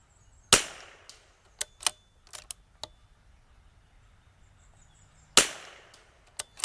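A CZ 457 .22LR rifle fires at a quarter-inch steel target 100 yards out: two sharp, loud cracks about five seconds apart, each followed by fainter distant metallic pings and clicks.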